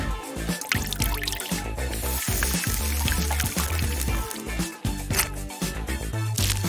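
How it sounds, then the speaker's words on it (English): Water is poured onto a row of Skittles, trickling and dripping in quick repeated splashes under upbeat background music. "Line them up and add some water."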